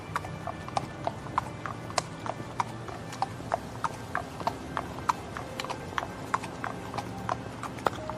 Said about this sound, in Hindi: संदेशवाहक घोड़े पर सवार होकर आश्रम की ओर तेज गति से रवाना होता है।